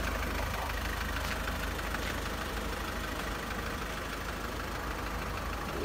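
A SsangYong car with a Mercedes engine idles steadily, a constant low rumble with a faint rhythmic tick, close and unchanging throughout with no one talking.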